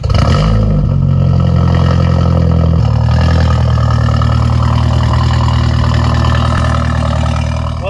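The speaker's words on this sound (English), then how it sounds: "I'm doing a point of view driving video in this beautiful CLA 250 that is stage 2 tuned" A stage 2 tuned Mercedes CLA 250 engine drones loud and close without a break, its steady low hum shifting pitch slightly partway through.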